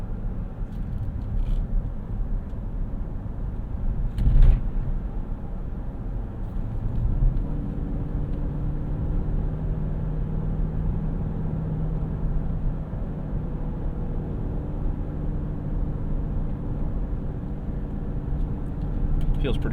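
A 2022 Dodge Durango R/T Plus AWD SUV on the move, with a steady low road and engine rumble from inside the cabin, one brief louder bump partway through, then a continuous drone.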